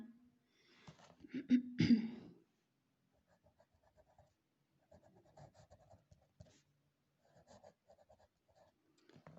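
Chalk scratches across a classroom board in quick strokes, loud at first and then lighter and scattered, with quiet pauses between bursts.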